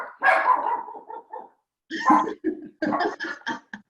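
A pet dog barks close by in a home, several sharp, throaty woofs in two quick bursts with brief pauses between them.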